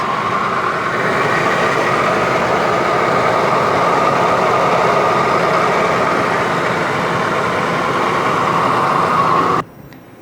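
The 3-liter twin-turbo V6 of a 1989 Nissan 300ZX (Z32) Fairlady Z idles steadily with a smooth, continuous rumble for about nine seconds, then cuts off near the end.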